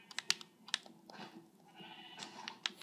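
Sheep in a video game let out short, sharp bleats in quick succession over faint background clicking like keyboard typing, fairly quiet and close.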